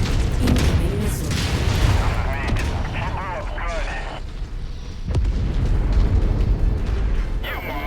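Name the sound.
missile explosion in Crimson Crusade video game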